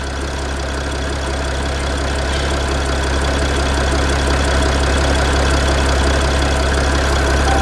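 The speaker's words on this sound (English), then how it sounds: "Let's let it idle for a little longer." Mercedes Sprinter van engine idling up close, with an oil leak under the engine, a loud steady low drone with fine rapid mechanical ticking, unchanging and continuous with no talk.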